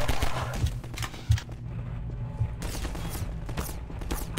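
Pistol shots in Half-Life 2, a few sharp cracks spaced irregularly over a steady low rumbling game soundscape, with no talk over them.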